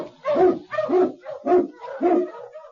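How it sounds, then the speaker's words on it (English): Sled dogs led by an Eskimo lead dog on a snowy Yukon trail bark in a steady run of about five loud, close, evenly spaced barks. "King, the swiftest, strongest of Eskimo lead dogs, blazes the trail through storm and snow for Sergeant Preston"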